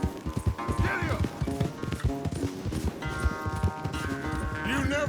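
Horses galloping during a race in Red Dead Redemption 2, rapid rhythmic hoofbeats close by, with a voice shouting over them and music in the background.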